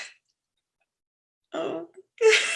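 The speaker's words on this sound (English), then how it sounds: "My sneeze is back." A single person's sneeze, a short wind-up burst followed by a sharp, loud, breathy release, close to the microphone and heard alone without talk.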